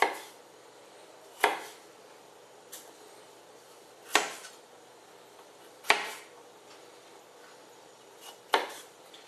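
A knife chops through a broccoli stalk on a cutting board in five sharp, well-spaced strikes, each a crisp thunk that quickly fades into quiet. The cuts are close and distinct, with no voices.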